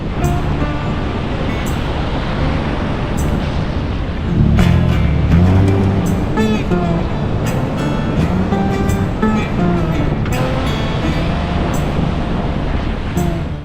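Large waves crash against a beach rock pool, a continuous loud roar of surf and churning water with surges and splashes, close to the recording point.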